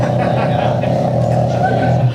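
A voice imitates the aftermarket exhaust of a manual-transmission car starting up, making a steady, loud, low droning rumble held for about two seconds.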